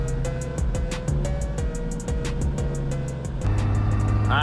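Car running a swapped Toyota 1JZ engine, driven to test the chassis and transmission, steady engine drone with a repeating rhythmic ticking pulse and pitch rising toward the end.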